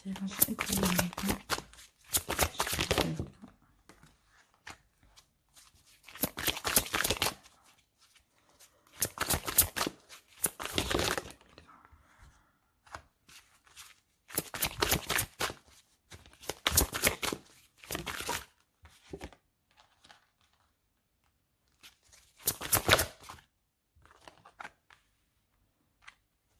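Tree of Life oracle cards being shuffled in repeated bursts of riffling and sliding, each lasting a second or two and separated by short pauses, sitting close and fairly loud.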